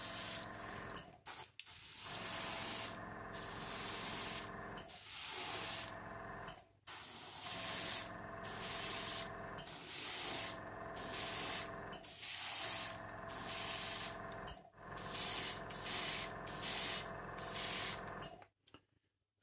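A Tamiya Spray-Work HG Wide trigger-type airbrush hisses as it sprays paint in repeated bursts of a few seconds each, separated by short pauses, steady and close with no voices.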